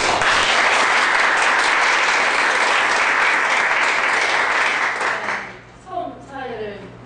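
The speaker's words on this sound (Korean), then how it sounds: "여러분들의 힘찬 박수 소리에 조금 긴장이 되었습니다." Loud, sustained applause from a book-talk audience in Daejeon fills the room for about five seconds, then fades out as a voice begins speaking.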